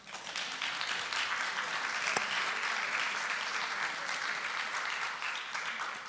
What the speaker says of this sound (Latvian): Lūdzu, sagaidām ar aplausiem.